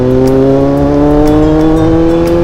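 A Kawasaki Z800 motorcycle on a test ride accelerates hard and close, its engine note climbing steadily and loudly through a gear without a break.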